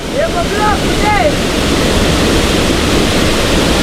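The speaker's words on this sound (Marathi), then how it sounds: "पाणी बघा गडूल पाणी आलं" Muddy river floodwater rushes in a loud, continuous roar close by, with a few brief high whistling chirps near the start over the constant wash.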